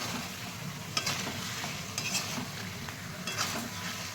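Potatoes and eggs sizzle as they are stir-fried in a pan, with a steady frying hiss and sharp spatula scrapes and clinks at irregular intervals, close and alone.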